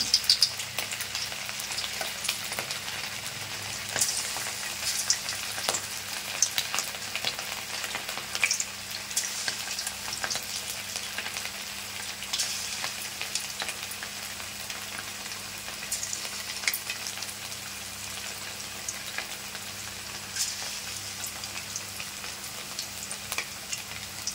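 Chicken pieces for chicken 65 fry in hot oil with a continuous, even crackling sizzle, close and moderately loud, with a few sharper pops and no talking.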